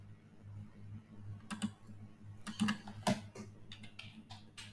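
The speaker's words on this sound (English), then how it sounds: "So on your terminal, you can type in" Scattered keystrokes on a computer keyboard while typing a command into a terminal, soft, close clicks arriving in short irregular clusters over a low steady hum.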